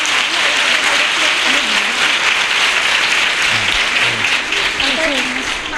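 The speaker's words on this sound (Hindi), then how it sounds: "सब ताली बजाएं" A congregation at a Sunday school anniversary claps together in a dense, continuous burst of applause that stays loud and close throughout, with voices audible under the clapping.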